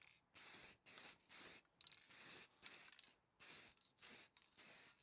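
Spray paint hisses from an aerosol can onto a 1977 Austin Mini 1000 radiator cowling in a series of about eight short, even bursts with brief gaps between, close and fairly loud.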